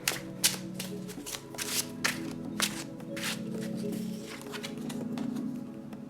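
Tarot cards shuffled and drawn from a deck, a fast run of soft papery riffles and flicks with a steady tonal hum beneath, close and fairly quiet.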